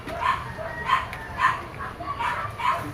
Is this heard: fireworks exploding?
no